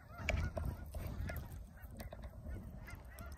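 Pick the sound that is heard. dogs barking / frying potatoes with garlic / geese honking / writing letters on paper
geese honking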